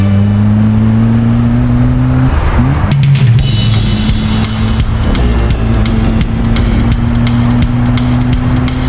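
A car driving off, its engine note climbing and shifting through gears at close range over a continuous loud whine, with no talk.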